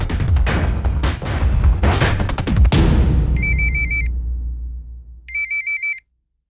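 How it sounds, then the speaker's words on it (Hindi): Heavy rumbling gunfire and explosions die away, then a mobile ringtone sounds in two short bursts of electronic trills. "तेरा फोन बज रहा है।"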